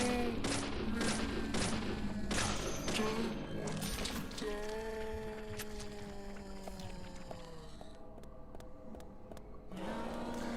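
Gunshots in the horror game Deadly Premonition: a string of sharp, evenly spaced shots up front, then tonal game effects and a few more crisp pops later, fairly loud.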